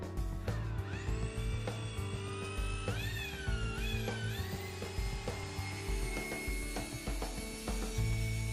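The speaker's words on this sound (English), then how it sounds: "buff the lens until you achieve a clear finish, adding more polish as needed" A rotary polisher whines steadily while buffing a headlight lens with restoration cream, close and continuous, its pitch rising and shifting under load with faint rubbing ticks.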